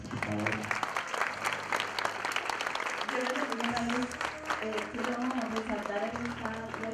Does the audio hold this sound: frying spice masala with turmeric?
no